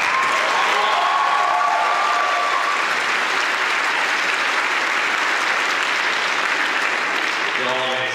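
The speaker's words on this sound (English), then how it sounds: "Give everybody a mention, a round of applause." A large crowd at a high school graduation ceremony claps in a loud, sustained wave of applause, with a few voices and whoops mixed in.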